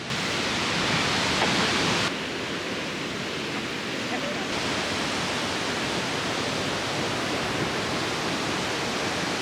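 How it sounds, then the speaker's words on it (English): The Krimml waterfall in Austria roars, a dense, steady, broadband rush of falling water heard up close and very loud, continuous throughout with no pauses. "Krimml waterfall."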